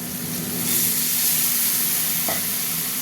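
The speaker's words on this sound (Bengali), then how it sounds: "এবার আমি এতে একটু জল দেবো" Water poured onto spice masala of turmeric and chilli powder frying in oil with salt and sugar raises a close, steady hiss and sizzle. Faint stirring sits beneath it, and no voices are heard.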